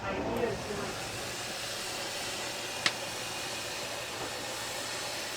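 A steam generator pumps steam for bending wooden covering boards in a boatbuilding workshop, a steady close hiss running throughout with one brief sharp click partway through.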